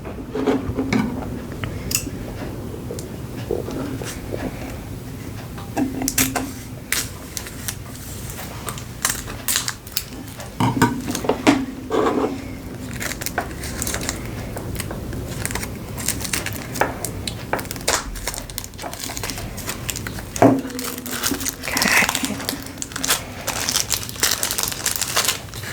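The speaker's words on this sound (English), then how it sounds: "So it does still have its shrink wrap here. So I'm going to just go ahead and cut into it" Shrink wrap being cut and peeled from an oracle card deck, a steady run of close crinkling, crackling plastic and small scratches and taps for about twenty-five seconds, with no voices.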